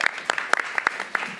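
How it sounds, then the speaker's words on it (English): An audience claps briefly for panelists at a community maternal health training session. The claps are close and crisp, with scattered sharp hits over a short burst. "Let's give all our panelists a big round of applause."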